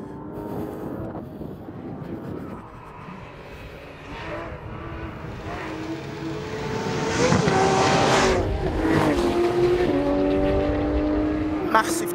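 A Porsche 911 GT3 RS engine roars high-revving on a track, its pitch climbing and dropping through gear changes, loud and sustained.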